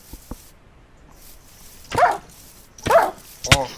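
A dog in the Minecraft video game gives three short yelps spaced about a second apart, the last one sharpest, over faint background game sound.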